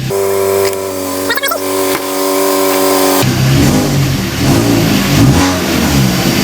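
A MINI One engine cranks, catches and revs loudly close by. A steady electronic tone and hum come before the engine starts, and then the rough running engine builds and swells.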